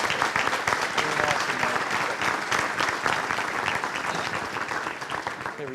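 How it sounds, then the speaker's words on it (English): Steady, full applause from a crowd at a military base community update, loud and sustained, with a hint of voices blended into the clapping. "So give him a round of applause"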